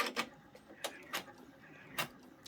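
An embroidery machine stitches a freestanding lace pumpkin, sending out quiet, irregular bursts of whirring and clicking separated by short pauses, close and fairly faint.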